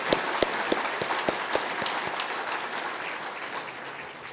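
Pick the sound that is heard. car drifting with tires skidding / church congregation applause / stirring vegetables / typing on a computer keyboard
church congregation applause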